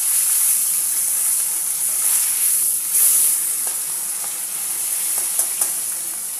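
Two small fish sizzle and fry in hot oil in a pan, a steady bright hiss with faint pops and crackles throughout, close and loud, with no talking.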